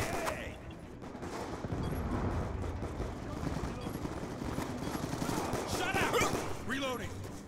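Multiplayer gunfire in Call of Duty Black Ops 2 on the Plaza map, sustained bursts of automatic fire at moderate distance, with a voice talking over them.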